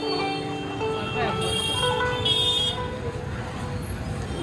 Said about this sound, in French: Un bruit incessant de klaxon et de moteur.